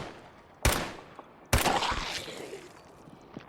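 Gunfire from Fallout 4: two sharp, loud shots about a second apart, each ringing out with a long decaying tail, followed by fainter scattered noise.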